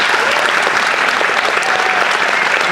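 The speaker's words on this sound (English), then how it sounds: "Let's give them one more big round of applause." Audience applauding at a film festival premiere in Traverse City, a dense, steady round of clapping from a full crowd, loud and close throughout.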